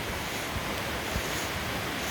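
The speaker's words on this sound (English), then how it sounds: "I'm walking by a river here. It's quite a beautiful river, but it's noisy as well." A noisy river beside a forest path gives a constant broadband rushing roar, loud and close, with faint wind buffeting over it and no talk.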